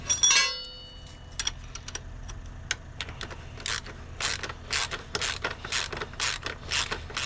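Bolts being tightened on the forks of a 2011 Triumph Tiger 800XC motorcycle: a metallic clatter opens, then a run of quick ratcheting clicks, growing denser and louder in rhythmic bursts.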